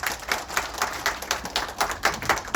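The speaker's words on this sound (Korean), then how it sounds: "여러분들 뜨거운 박수 부탁드리겠습니다" A room full of people at a neighborhood redevelopment briefing claps steadily, even rhythmic applause sustained throughout without voices over it.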